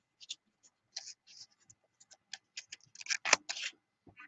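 Dull fabric scissors cutting paper or bias tape, a series of short, close, crisp snips spaced irregularly, quiet at first and growing louder toward the end, with no talk.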